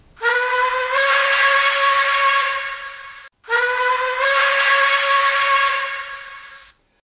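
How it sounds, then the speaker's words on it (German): Long steam whistle from a PIKO N-scale BR 82 sound-equipped model locomotive: two sustained, bright blasts of about three seconds each with airy hiss, a tiny gap between them, close and loud, fading at the end. "F3 Dampfpfeife lang,"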